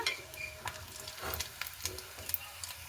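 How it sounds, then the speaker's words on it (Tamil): Chicken frying in hot oil gives a soft, close sizzle, broken by scraping stirs and light metallic clinks of a utensil against the pan. "எங்களுக்கு சிக்கன் நல்லபடியாக பொரிஞ்சு வந்துட்டு இனி நான் இறக்கி எடுக்க போகிறேன்"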